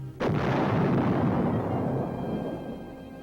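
A World War II artillery barrage supporting an infantry assault toward the upper Volturno Valley, heard as one sudden heavy boom followed by a long rumbling roll that slowly decays, loud and alone without narration.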